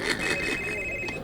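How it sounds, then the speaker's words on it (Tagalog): A cellphone rings with a steady, bright electronic tone, loud and close, running on with no break. "Ni ring ang cellphone do"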